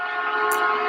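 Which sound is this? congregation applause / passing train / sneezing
passing train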